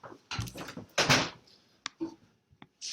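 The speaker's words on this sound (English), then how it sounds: "I'm going to shut the door." An indoor room door swings shut, giving a few close knocks and a solid thud followed by softer clicks, with quiet pauses in between.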